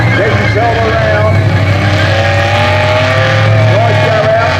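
A Holden VN V6 Commodore does a burnout at the Street Machine Nationals, its engine droning steadily and loud while tyres squeal continuously throughout.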